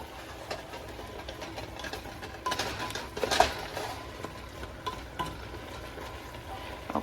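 Onions being stirred in a frying pan, with a soft sizzle under scraping and a few louder clatters of a utensil against the pan, close and moderate, with no talking.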